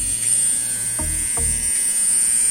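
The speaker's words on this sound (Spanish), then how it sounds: "Aquí tenemos el sonido de esta trimmer," A Vintage T9 hair trimmer running close by with a steady high-pitched electric buzz, plus a few brief low clicks and thumps as it is handled.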